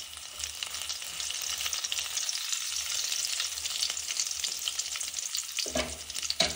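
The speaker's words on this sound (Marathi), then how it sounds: "त्यानंतर आपण 4 ते 5 लाल मिरच्या टाकूयात, त्या तेलात हलवून घेऊयात।" Four to five red chillies fry in hot oil over mustard seeds for a sambar rice tempering, giving a continuous hissing sizzle with light stirring and a louder clatter near the end, close and without speech.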